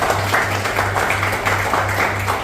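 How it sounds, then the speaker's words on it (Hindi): Audience applause at a civil defence evacuation training demo with Haryana Police personnel, a steady patter of many hands clapping throughout, with a low constant hum running underneath. "एक बार रवि के लिए ताली बजाओ"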